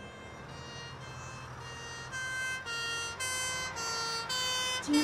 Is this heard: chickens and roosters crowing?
no